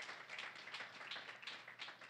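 A crowd applauds steadily at a conference, many hands clapping in a continuous patter that sounds somewhat distant and faint.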